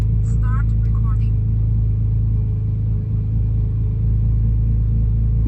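Car engine idling after holes in its exhaust were patched without welding, a steady, loud low rumble that is noticeably subdued, with a brief voice near the start.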